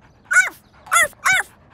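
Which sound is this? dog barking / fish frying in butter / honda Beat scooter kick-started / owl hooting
dog barking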